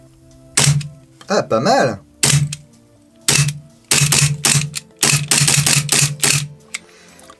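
Army R32-1 1911 gas blowback airsoft pistol fires a series of sharp, close cracks with cycling slide clacks, irregular single shots spread across the stretch, with a brief spoken remark between.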